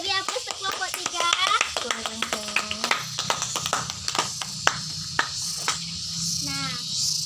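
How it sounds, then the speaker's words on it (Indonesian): Students in a primary school classroom give group 3 a round of applause, with scattered, uneven claps and children's chatter that fade into a faint background hum. "beri aplaus untuk kelompok 3"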